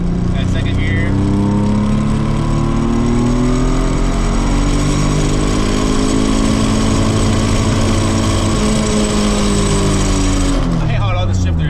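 A Nissan S13 with an R32 differential swap, engine droning loudly and steadily while driving, pitch climbing through the rev range before a brief gear change near the end.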